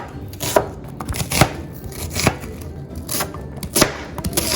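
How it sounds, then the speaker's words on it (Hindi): A knife finely dicing onion on a cutting board, sharp irregular chops spaced about a second apart, close and clear with no talking. "आपने इसको अपने प्याज को बारीक बारीक डाइस कर लें"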